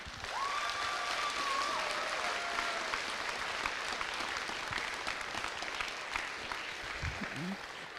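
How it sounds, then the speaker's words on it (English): Sustained applause from an audience at the Central Iowa Super Qualifier event, a dense steady wash of clapping that holds for several seconds, with a brief voice near the end. "So let's give them another round of applause."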